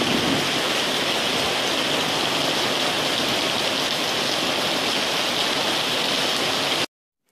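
A strong storm with destructive hail pelts down in Damasi in June 2019, a dense, loud, unbroken roar of impacts that continues steadily and then cuts off abruptly.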